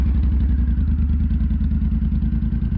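A motorcycle engine idles close by with a steady, throbbing low rumble and rhythmic chugging, unchanging for a few seconds.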